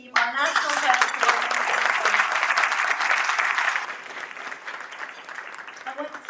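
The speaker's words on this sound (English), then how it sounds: "can I ask you to give a round of applause for my whole executive team, our National Council" An audience at a charity dinner in London breaks into loud, dense applause that holds strong for several seconds and then thins to scattered clapping, with a voice speaking over the tail end.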